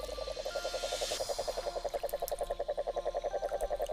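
A large poisonous toad croaks in a steady, rapid pulsing trill that carries close and loud throughout, with no other sounds competing.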